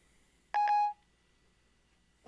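An iPhone plays a short chime-like tone burst as Siri places a call, a single clear electronic beep sequence lasting under half a second, heard close in an otherwise quiet room.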